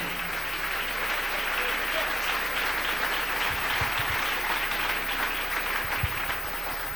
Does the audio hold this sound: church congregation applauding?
yes